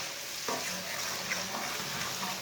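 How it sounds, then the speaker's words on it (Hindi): Crushed garlic browning in a pan, a soft steady sizzle with faint stirring scrapes, fairly quiet and with no talk. "लहसुन को भी थोड़ा सा ब्राउन कर लेंगे।"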